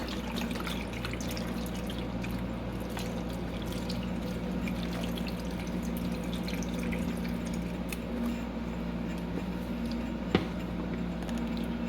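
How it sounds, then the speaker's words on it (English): Water and chicken stock pouring into a pot of onions and peppers, a soft continuous trickling and splashing over a steady background hum, with one sharp clink near the end. "I'm going to put in about 2 cups of water and 4 cups of chicken stock."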